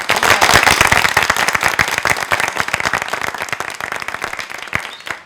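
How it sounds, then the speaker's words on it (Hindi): Dense, loud applause from a society gathering honoring a neighbor with an award, rapid sharp claps filling the whole span and easing slightly toward the end. "तालियां"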